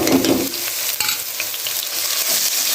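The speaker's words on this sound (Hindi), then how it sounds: "अभी हम डाल रहे हैं इसमें अदरक लहसुन का पेस्ट," Ginger garlic paste fries in a pot for potato biryani, a continuous near sizzle with a heavier burst at the start and scattered clinks and scrapes of stirring, no voices.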